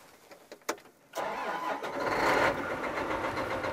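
A farm tractor running an air seeder cranks briefly, then catches and settles into a steady, loud idle after about a second, heard close with no talk.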